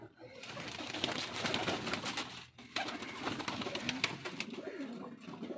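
Banka pigeons coo softly amid a busy background of rustling and fluttering, the low calls repeating over several seconds.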